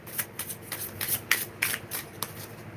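Tarot cards shuffled by hand up close, a quick series of soft papery riffles and light snaps in uneven rhythm, fairly quiet.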